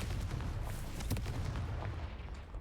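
A Confringo fire spell bursting in the video game Hogwarts Legacy, a loud continuous rumbling blast with a sharp crack near the middle, heavy low-end boom sustained throughout.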